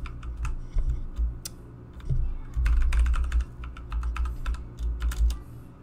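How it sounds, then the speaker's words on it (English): Fingers tap out a password on a computer keyboard in uneven bursts of clicky keystrokes, close and fairly loud over a low background hum. "Let's type in the password again."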